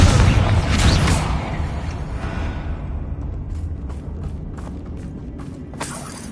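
Confringo explosive spell blast in the Hogwarts Legacy video game, set during an assault on a goblin mine: a loud booming detonation opens, then decays into rumbling debris with scattered smaller crackling bursts and clicks.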